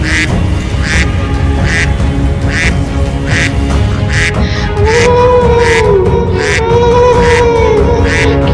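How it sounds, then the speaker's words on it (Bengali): Ducks quack repeatedly in a steady rhythm, loud and close, with a few longer honking calls joining in partway through. "হাঁসেরা ডাকতে থাকে"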